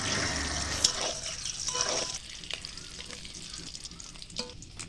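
Spices fry in mustard oil in a wok: a loud burst of sizzle and crackle for the first two seconds, then settling to a quieter hiss with occasional stirring clicks.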